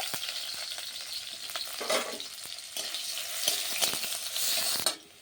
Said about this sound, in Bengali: পেঁয়াজ কুচিগুলো আমি দিয়ে দিচ্ছি তেলের মধ্যে, দিয়ে ভালো করে একটু ভেজে নেব।